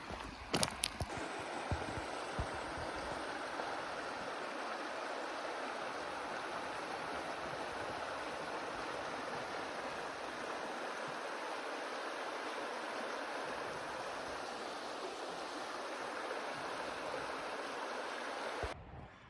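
Big Chico Creek flows steadily in a park, a broad, even rush of running water heard close and continuous for nearly the whole stretch, with a few brief knocks at the start and the sound cutting off at the end.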